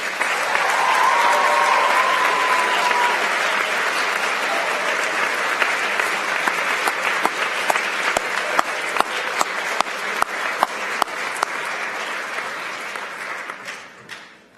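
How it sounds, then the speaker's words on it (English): Sustained audience applause at a high school awards ceremony as a robotics team rises to be recognised, a dense wash of clapping that holds steady with a faint voice early on, then thins to scattered claps and fades out. "Team members, please rise to receive your applause."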